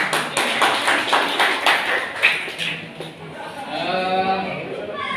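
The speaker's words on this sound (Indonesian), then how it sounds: "Silakan kembali beri tepuk tangan." An audience claps briefly at a training session, with a few sharp claps at the start that quickly fade while voices murmur and talk in the room.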